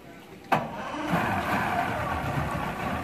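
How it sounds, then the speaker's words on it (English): The port engine of a twin 1996 Mercury 225 Offshore 3.0L outboard setup cranks with a sharp burst, then settles into a steady, close idle rumble that continues to the end. "port motor fires up just fine."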